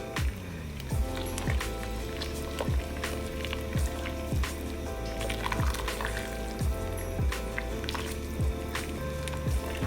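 Starchy Arborio rice soup with lemon simmers in a pot while being stirred, giving soft, repeated wet squelches and bubbling over a constant low background hum.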